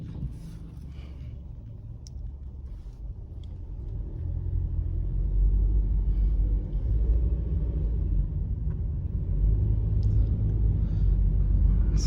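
Steady low road rumble of cars travelling at high speed on a wide Saudi Arabian highway, swelling louder after the first few seconds and holding a continuous drone with no talk over it.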